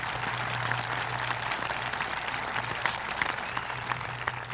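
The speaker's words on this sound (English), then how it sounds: "Go ahead and give yourselves a round of applause for that." A high school commencement audience applauding the graduating students, a steady wash of clapping from a large crowd heard at some distance, with no voices standing out.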